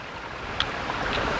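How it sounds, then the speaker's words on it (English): A small stream flows beside a mountain trail on the Appalachian Trail, a steady soft rushing hiss with faint splashes. "Oh, we got a little stream there."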